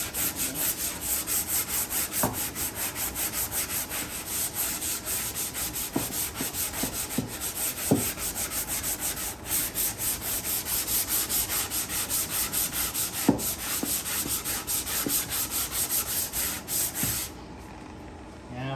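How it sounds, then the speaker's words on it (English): Continuous rhythmic scratchy rasping of sandpaper worked back and forth over wood, close and steady for a long stretch, with occasional small knocks. "Now, sanding ain't special or anything"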